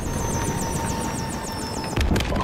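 A helicopter in the Call of Duty Modern Warfare Remastered video game gives off a steady, loud rotor drone with a wavering high whine over gunfire noise, then breaks off into bursts of crashing sound near the end.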